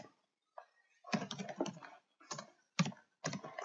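Code being typed on a computer keyboard, quick close bursts of key clicks separated by short pauses, with no other sound in the quiet room.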